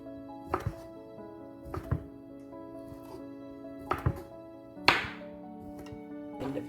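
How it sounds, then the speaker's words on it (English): Beef sausages being sliced on a slant with a knife on a cutting board, heard as sharp individual chops in irregular pairs, fairly close and distinct over a low steady hum. "Then we're going to take our beef sausages and cut them as slant as possible"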